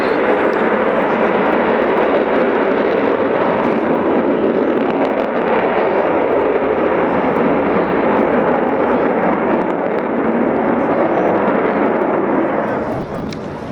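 Loud, steady roar of an Avro Vulcan B2 bomber, XH558, flying at RAF Waddington, sustained throughout, easing slightly at the very end.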